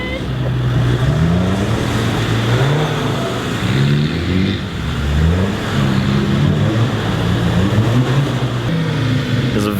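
A Land Rover stuck in mud at a Danish Land Rover club meet revs its engine hard with repeated rising and falling surges as the wheels spin, loud and sustained throughout.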